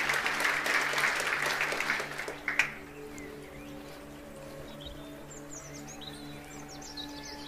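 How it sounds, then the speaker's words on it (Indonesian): Church congregation applause during a worship service, a dense burst of clapping that fades after about two seconds, leaving quiet room tone with faint tonal hum. "Kita beri tepuk tangan untuk kebenaran ini."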